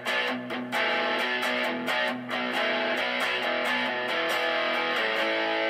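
A distorted electric guitar through an X-40 amp and a reverb pedal plays a chunky, sustained riff with repeated strummed chords that ring out and wash together in heavy reverb.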